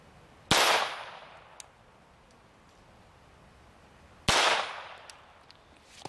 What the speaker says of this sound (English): Starting it off right with a .22 long rifle out of this pistol.